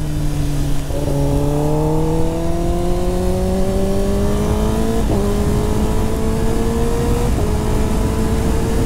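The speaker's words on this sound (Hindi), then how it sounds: "सबको रेव सुनना है, सबको रेव सुनना है गाड़ी का आवाज।" A car engine revs loudly and steadily, its pitch climbing through several gear changes as the vehicle accelerates along a road, with no voices heard.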